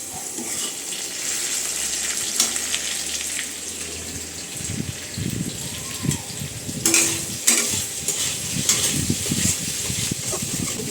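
Cumin, dried chilli and potato sputter in hot oil as they are stirred, a continuous sizzle with spoon clatter and some running-water noise nearby, close and moderately loud.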